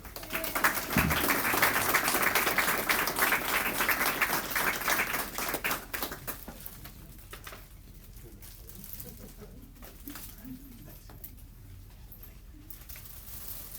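Applause for teachers and staff at a regular monthly school board meeting: a dense burst of clapping for about six seconds, then thinning to scattered claps and a quiet room.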